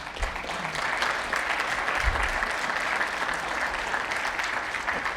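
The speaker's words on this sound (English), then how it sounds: "Round of applause for our team." A conference audience gives a steady round of applause for the organising team, dense many-handed clapping at an even level throughout, with a couple of low thumps near the start and middle.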